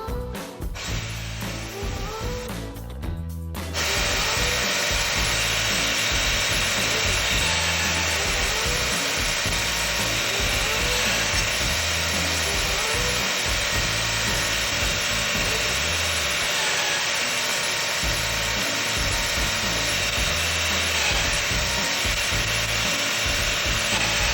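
A Festool Domino joiner mills a wooden leg, a loud, steady power-tool whine and cutting drone that starts a few seconds in and runs unbroken to the end.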